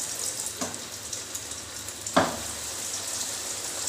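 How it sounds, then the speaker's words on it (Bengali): Hilsa fish fry pieces set one by one into hot oil, a soft steady sizzle with a few sharper bursts, one louder spatter midway, no talking. "এবারে আমি একটা একটা করে ফিশ ফ্রাইয়ে ভাজা বসিয়ে দিচ্ছি।"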